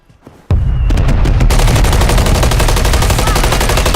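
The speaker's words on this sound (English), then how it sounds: "Friendly mortar strike inbound." Friendly mortar strike in Warzone: after a quiet lead-in, a sudden loud blast opens a dense, continuous barrage of rapid explosions and gunfire-like cracks that roars on without pause.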